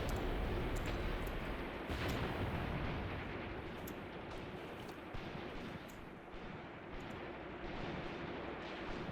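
Artillery guns fire in the Graviteam Tactics video game, a dense rumbling barrage of booms with sharper cracks at intervals, continuous and fairly loud without speech.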